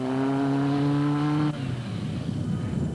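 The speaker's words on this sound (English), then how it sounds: "It was not a bridge too far for the Toyota and the Nissan as they raced side by side over the first day's long stretch." A Toyota and a Nissan rally vehicle race side by side over loose sand, their engine note a loud, steady whine that drops away halfway through into rougher rumbling and crunching.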